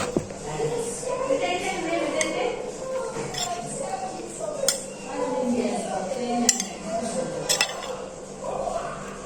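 A spoon clinks and scrapes against a bowl while curd is mixed for raita, with sharp irregular metallic taps over steady kitchen stirring and faint talk in the background.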